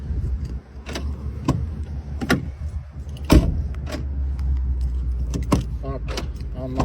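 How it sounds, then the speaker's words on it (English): Door locks on a 2012 Ford Transit Connect cycling locked and unlocked, several sharp mechanical clunks spaced across the span over a low idle-like background rumble, with a key jingle and a louder thump midway. "Locks and unlocks the doors."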